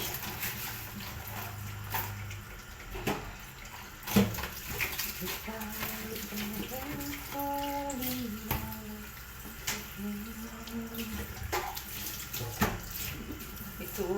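Household items being washed with running tap water in a basin, with steady splashing and flowing water, occasional clunks of objects and someone talking over it.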